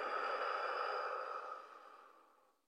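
One long, deep exhalation during a gentle yoga breathing exercise, a breathy rush of air close to the microphone that holds steady for over a second and then slowly tapers off into silence.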